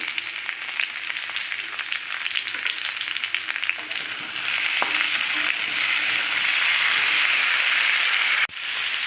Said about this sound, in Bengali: আচ্ছা টমেটো আর লবণ দিয়ে একটুখানি নেড়ে নিয়েছি।